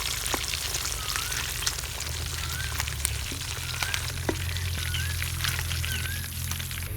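Fish pieces frying in hot oil for fish biryani, a steady dense crackle and sizzle with small spits and pops throughout, close and fairly loud, no talking.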